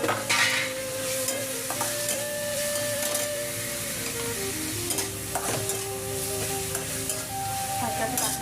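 Upma ingredients, green chillies and tomatoes, sizzle and sauté in a pan while a spoon stirs and scrapes repeatedly, close and continuous with no talking.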